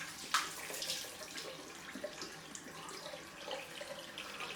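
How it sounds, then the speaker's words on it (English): A tap runs for a cold rinse during a wet shave with a shavette, a close, continuous splashing of water with small irregular spatters and no talking. "Cold rinse."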